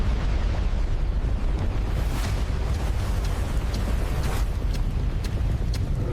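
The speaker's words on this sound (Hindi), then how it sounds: "लावा बह रहा है" Cartoon lava flows on a volcanic island as a loud, steady roaring rumble with no breaks.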